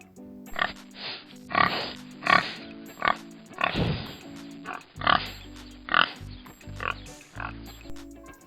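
A pig grunts and oinks in a steady series of short, snorting bursts, roughly one each second, close and moderately loud with no talking.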